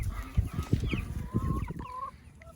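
A young rooster among a backyard flock of chickens and ducks clucks in short, close, repeated bursts, with softer bird calls around it.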